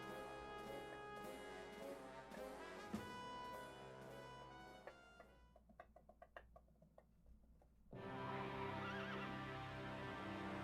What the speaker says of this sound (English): Nice horse sound effect there.